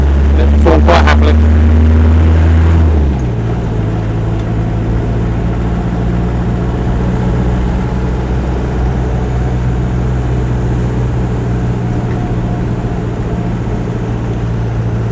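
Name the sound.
Land Rover 90 2.5 diesel engine running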